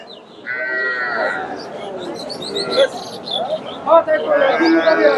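Loud lowing of native cows and calves among a busy crowd of voices outdoors at the Dakumara cattle market, with a few moos rising over the chatter.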